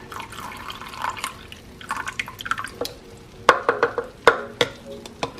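A liquid mixture is poured and spooned into a meal prep dish, with soft wet splashes followed by sharper drips and clinks in an irregular rhythm, close and fairly quiet.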